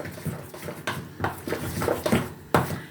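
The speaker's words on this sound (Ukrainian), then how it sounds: "Гарно перемішуємо." A spoon scrapes and clinks against a bowl in repeated strokes, stirring forshmak with apple cider vinegar, close up and fairly quiet, with no talking.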